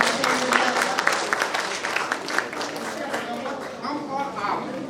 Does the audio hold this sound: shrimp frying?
no